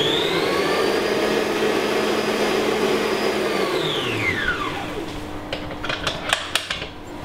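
An electric hand mixer whirs loudly and steadily while beating egg yolk and sugar for an almond cake, then winds down and stops, followed by a few light clicks and taps on the bowl.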